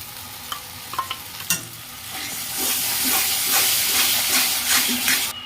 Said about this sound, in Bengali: তো মশলাটা একটু কষিয়ে নিচ্ছি।